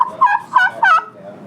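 A turkey call mimics a young gobbler's kee, slower and deeper than a hen's: three drawn-out, close, fairly loud notes in quick succession.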